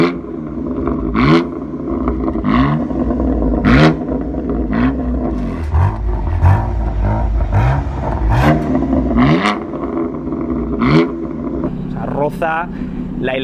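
A BMW M4 GTS engine revs repeatedly, rising and falling with sharp exhaust pops and crackles on each downshift, loud and close throughout.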